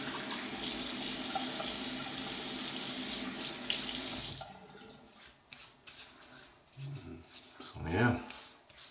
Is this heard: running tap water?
yes